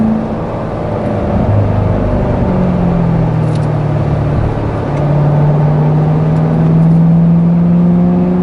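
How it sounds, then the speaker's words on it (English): A C7 Corvette Z51 V8 engine drones loudly and climbs in pitch as it revs and accelerates, a steady throaty roar from inside the car. "nothing beats the V8 sound, that's for sure"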